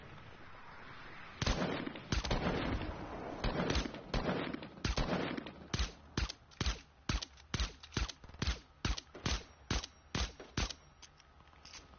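Gunfire from a distance in a PS4 shooter game, a long series of sharp cracking shots, irregular at first and then in a steady rapid rhythm, fairly loud with no talk over it.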